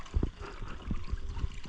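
Paddles stroke the water as a small boat moves out at sea toward a fishing spot, giving soft, low splashes and thumps at an uneven pace over faint lapping water.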